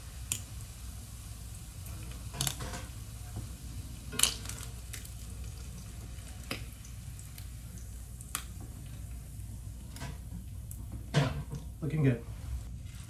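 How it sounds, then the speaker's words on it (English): Crab cakes browning on both sides in a frying pan give a low, steady sizzle with scattered sharp clicks and pops, fairly quiet throughout. "We're just going to brown them on both sides"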